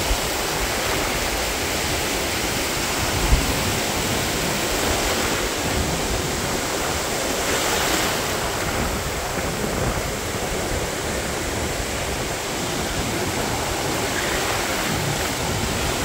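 Steady ocean surf rolls onto Deerfield Beach on a crowded day, a broad continuous wash of waves at moderate level with no distinct breaks and no voices.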